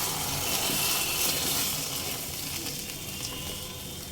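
Milk with dissolved milk powder hits frying masala in a pan for an egg korma, a steady, broad bubbling sizzle close by that fades slightly toward the end, with no talk.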